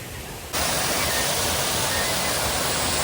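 Rushing water at Dada Parts in Chikmagalur swells abruptly into a loud, constant roar of spray and flow, close and unbroken after a quieter opening half second.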